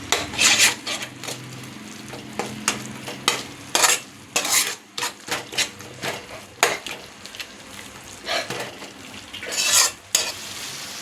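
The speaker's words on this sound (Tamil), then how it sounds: "மசாலா வதங்கிட்டு இருக்கு" Masala sizzling and sautéing in a pan with water for Saidapet vada curry, with repeated scraping strokes of a spoon stirring throughout, loud and close.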